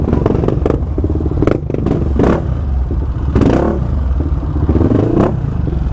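A Honda Fan 160 motorcycle with a modified engine rumbles steadily nearby with some clattering and thuds over a continuous low drone.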